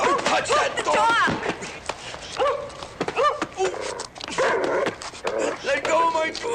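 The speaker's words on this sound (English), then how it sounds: "Get the dog! Don't touch that dog!" A dog barks and yelps in bursts during a violent street scuffle in a 1977 film, the sharp barks close and loud, mixed with shouting voices and struggling people talking over it.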